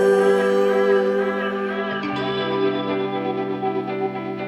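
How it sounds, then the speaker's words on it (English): Lead vocal of a pop song held on a long sung note with a long plate reverb, sustained bright tones that hang and smear into a lingering wash, with the pitch shifting slightly midway and the tail decaying smoothly. "9-second-ish plate reverb in this one section of the song."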